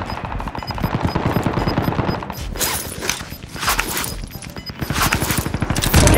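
Automatic weapon fire in a Warzone-style video game on the Fortune's Keep map rattles in rapid, loud bursts, with brief pauses between volleys and a final stretch of continuous shooting.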